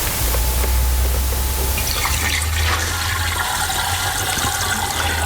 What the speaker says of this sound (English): I'm going to just rinse it out